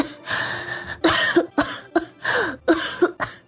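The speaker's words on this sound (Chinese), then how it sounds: "又是一声咳嗽传来，很是虚弱" A feeble, weak cough repeats in a run of about six short, breathy bursts with brief pauses between them, close and dry, in a dramatized story scene.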